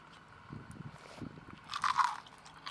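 Someone bites and chews a soft yet crispy fried flour snack up close, with a run of quiet crunches followed by a louder, sharper crunch near the end.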